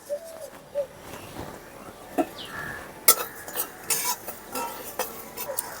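Whole coriander and cumin seeds fry and are stirred in a pan for a Bengali ridge gourd and fish-head ghonto, giving soft scraping clinks and light sizzling in scattered bursts, fairly close and moderately quiet.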